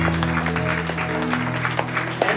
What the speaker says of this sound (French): Est-ce que maintenant tu peux bien acclamer pour le Seigneur?